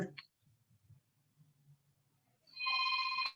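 A mobile phone ringtone starts up close and loud after some quiet, low speech, with steady tonal ringing that carries on to the end.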